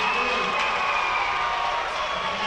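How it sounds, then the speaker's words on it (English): A crowd at a high school basketball game roars steadily in a gym as the home team closes out a win. The cheering is loud and continuous for the whole stretch, with no clear voice standing out. "Listen to the crowd."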